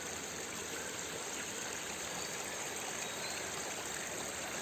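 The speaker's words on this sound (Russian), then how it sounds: "Вот тут идет речка" A mountain river rushes steadily past a trout farm in Kyrgyzstan, a constant broadband wash of flowing water heard at moderate distance with no voices.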